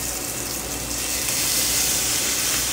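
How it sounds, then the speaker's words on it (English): Steady, bright sizzling hiss of food frying in a hot pan, loud and close, with no voices. "That sizzle."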